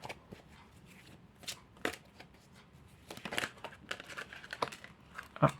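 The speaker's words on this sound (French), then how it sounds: "Je vais tout d'abord battre les cartes." A deck of tarot cards is shuffled by hand, with quick riffling and soft flapping bursts that grow busier and louder toward the end. The sound is close and sits alone with no talk.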